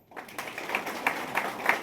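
Applause from an audience at a hospital staff gathering, a steady crowd clapping that starts abruptly and carries on for nearly two seconds with a few louder claps standing out.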